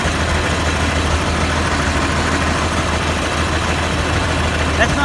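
A 1555 tractor engine fitted with a new muffler runs steadily at idle, a loud, constant low rumble close by with no break across the whole stretch.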